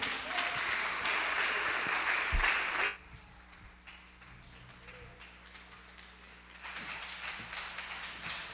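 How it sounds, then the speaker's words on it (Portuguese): A church congregation applauds during a worship service, a brief burst of clapping that stops abruptly, leaving quieter room sound and faint shuffling. "é para Ele todas as nossas palmas nesta noite"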